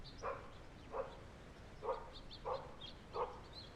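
Dogs bark in the village of Casares in a series of five short, fairly distant barks spaced about a second apart over a quiet background.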